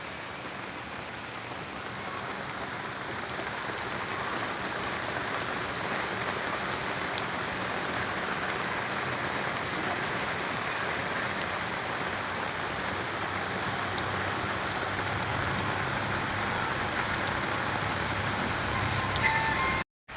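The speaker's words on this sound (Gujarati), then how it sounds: "વરસાદ ચાલુ થઈ ગયો" Steady rain falls in an even, continuous hiss on surfaces nearby, unbroken for the whole stretch with no talking.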